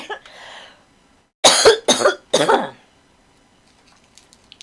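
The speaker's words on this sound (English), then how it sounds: "Apparently, I'm having a cough attack." A short coughing fit: three harsh, loud coughs in quick succession after a brief voice, then near silence with small faint sounds.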